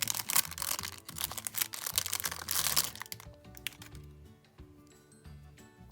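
Plastic packaging around an eraser crinkles and rustles in quick, busy bursts close by, then quiets into a few soft handling clicks.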